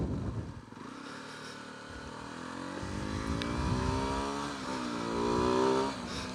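A 2020 SWM Varez 125 motorcycle accelerates on the road, its engine note climbing steadily in pitch through the gears, close and continuous with wind noise behind it.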